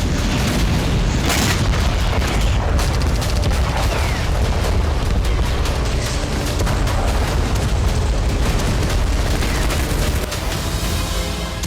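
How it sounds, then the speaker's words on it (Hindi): Continuous loud booming and rumbling explosions from drone strikes, dense and overlapping, with sharp cracks mixed into a heavy, unbroken roar. "लेकिन धमाका किसी मिसाइल से भी कई गुना ज्यादा हो रहा है"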